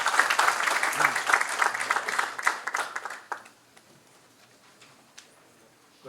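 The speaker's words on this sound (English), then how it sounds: "A big round of applause for Dr." Applause from a lecture audience at a defence-sector event for small and medium enterprises, a dense burst of clapping that fades out over about three seconds into near silence.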